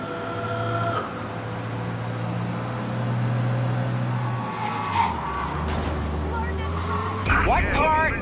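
A car in Mafia: Definitive Edition races at high speed to escape pursuing police, its engine droning loud and steady with shifting pitch, a skid and a shift near the end, and voices talking over it.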